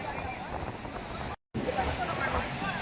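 Rough, surging sea waves crash on the shore at Somnath, a dense, steady roar of surf mixed with wind buffeting the microphone, broken by a brief dropout midway.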